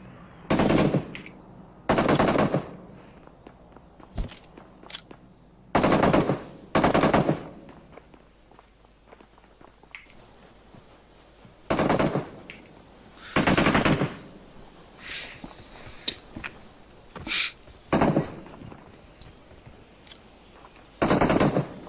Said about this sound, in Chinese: 这俩哥们在这里一直在开枪